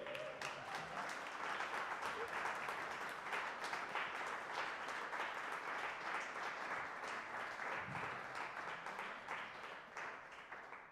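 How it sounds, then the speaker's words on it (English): Audience clapping at a songwriting lab conversation event, continuous applause filling the room at an even level for about ten seconds before tapering off, with a few faint voices underneath. "You can clap."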